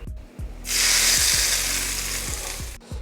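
A hot tempering of mustard seeds, dried red chilli and curry leaves is poured into coconut chutney and erupts into a loud, close, sustained hiss that fades slightly over about two seconds, with low crackling and no speech.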